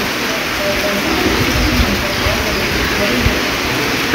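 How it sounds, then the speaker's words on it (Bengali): Heavy rain falls steadily outside on a dark, overcast day, a dense continuous hiss and patter with no breaks, close and fairly loud throughout. "আর বাইরে প্রচুর বৃষ্টি হচ্ছে।"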